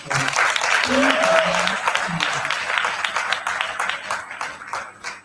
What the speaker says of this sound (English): Give me another round of applause